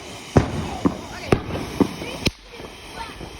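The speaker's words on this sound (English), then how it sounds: "My grandpa had a firework and almost blew it up." Backyard firework going off, a series of about five sharp cracking bangs spaced roughly half a second apart, loud and close, with people talking around them.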